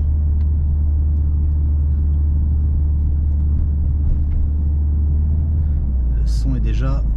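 Mercedes A45S 2020 engine idling or cruising in comfort mode, a steady low rumbling drone heard from inside, with a voice speaking briefly near the end.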